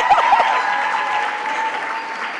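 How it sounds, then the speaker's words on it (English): Audience applause at an awards gala fills the short stretch steadily and at close range, a dense wash of many hands with no voices standing out. "I'll fumble and get an applause."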